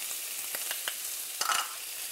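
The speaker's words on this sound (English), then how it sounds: "Saute it all together" Chopped onion, chopped ginger and garlic paste are sautéed together in a pan, giving a steady close frying hiss broken by soft scraping stirs and small pops.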